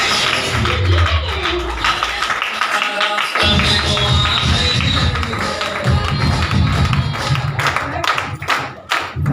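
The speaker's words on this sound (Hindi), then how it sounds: "शानदार तालियों से सम्मान करेंगे।" Applause from an audience at an RCM business celebration: loud, dense, continuous clapping that fills the room for the whole stretch, with background music and crowd noise mixed in.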